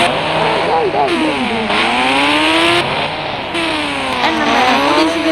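A motorbike in the Indian Bike Driving 3D video game revs and shifts, its engine tone rising and falling through sweeping pitch changes, loud and continuous, with speech over it.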